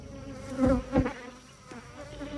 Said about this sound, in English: they are buzzing around me right now